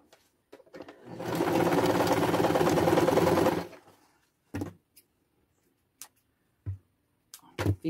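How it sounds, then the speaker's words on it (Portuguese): A sewing machine stitches small fabric scraps in one close, loud, buzzing run of about three seconds, followed by quiet short clicks and handling knocks of the fabric. "E vamos costurar aqui."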